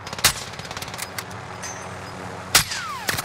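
Gunfire in the Call of Duty Warzone video game: two sharp, loud shots stand out near the start and midway, with a lighter burst at the end, over a steady bed of game ambience.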